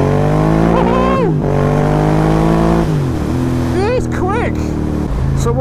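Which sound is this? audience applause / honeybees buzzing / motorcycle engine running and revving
motorcycle engine running and revving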